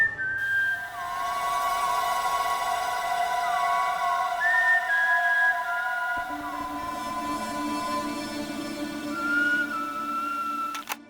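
A person whistles a melodic tune alone, clear and fairly loud, holding sustained notes with slides between pitches, and the line drops lower partway through.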